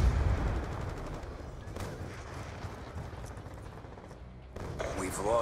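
Gunfire rattles through a Black Ops 2 match, a steady stream of mid-distance shots and game noise with heavier bursts at the start and end, mixed with faint voices.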